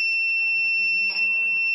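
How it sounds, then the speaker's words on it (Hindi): A DIY object-detection project's electronic alarm rings as a steady, loud, high-pitched continuous tone held throughout, with a faint brief disturbance partway through and no talking. "अलार्म बजना स्टार्ट हो गया आपने देखा"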